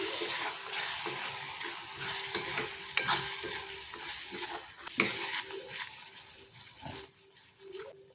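Ground coriander-cumin, turmeric and Kashmiri red chili fry in oil for dhaba-style malai paneer, stirred with a spoon that scrapes and clanks against the pan over a quiet sizzle, close and intermittent.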